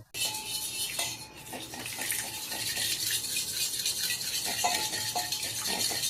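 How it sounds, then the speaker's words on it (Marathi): Egg and milk being whisked together in a bowl, a steady run of clinking, scraping utensil strokes against the dish, close and fairly loud throughout with no voices. "अर्धे दूध तर केले मिक्स, अजून आता अर्ध बाकी आहे"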